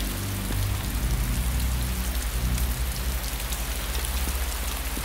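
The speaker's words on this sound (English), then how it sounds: "Look at all that rain." Steady, dense rain in the video game DayZ Standalone, pattering continuously on surfaces at an airfield tent camp, loud and even with no voices.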